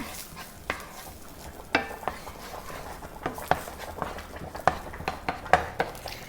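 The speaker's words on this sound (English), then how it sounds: "So I'm gonna put it in the pan. And I'm going to stir that." Half an onion frying in a bit of oil in a pan, stirred with a utensil: quiet, irregular scraping strokes over a soft, steady sizzle.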